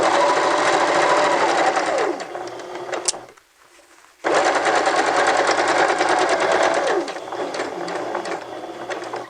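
A sewing machine runs a long basting stitch across fabric toward a marked dot, loud and close, in two sustained bursts split by a brief pause.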